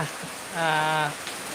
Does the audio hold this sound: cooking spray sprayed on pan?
no